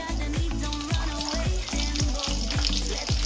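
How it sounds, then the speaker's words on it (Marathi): Mustard seeds and garlic paste sizzling in hot oil for a Bhogi mixed vegetable dish, a loud continuous crackle with rhythmic low thumps and scrapes of a spoon, no voices. "इथं तेल गरम झालं की त्याच्यामध्ये घालून घ्यायची मोहरी आणि मी इथं लसूणची पेस्ट करून घेतली होती ही पण आपल्याला याच्यामध्ये एक चमचा घालून घ्यायची"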